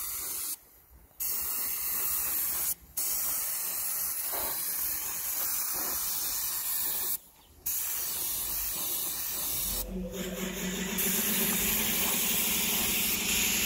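A spray paint gun hisses in long bursts with brief pauses while a car's front grille gets its second coat, loud and close, changing to a deeper rushing tone near the end.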